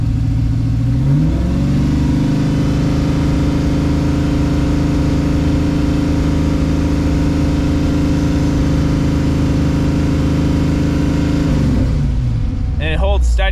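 A Firebird with a swapped engine that has oil pressure trouble rises to a light rev, then holds a steady, loud, throbbing run before easing back down.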